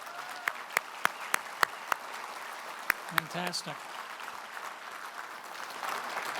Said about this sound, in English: How about a big round of applause for all of these?